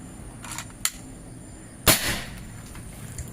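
A Mini Lipat Army Magazine PCP air rifle with a 30 cm seamless barrel, filled to 3500 psi, fires a single sharp shot, preceded by a couple of small clicks and followed by a brief ringing tail.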